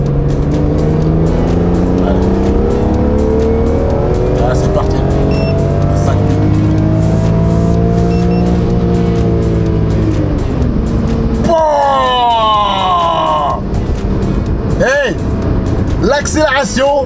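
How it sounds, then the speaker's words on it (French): A BMW M3 E46 with a manual gearbox accelerates hard, its engine note climbing through rising sweeps, then a brief pause and fresh rapid climbs after shifts, loud and close with people talking over it. "L'accélération est meilleure que la M3E92."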